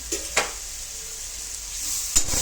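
Onions softening with a little turmeric sizzle steadily in a pan, a bright continuous hiss with a few sharp scraping stirs near the start and end.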